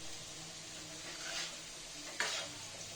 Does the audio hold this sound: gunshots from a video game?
no